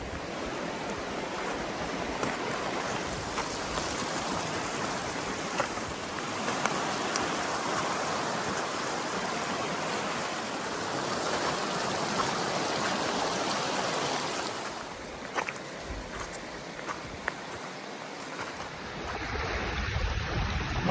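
Water rushes and burbles steadily in Mission Creek along the Pacific Crest Trail, a continuous broad hiss close by, with no voices.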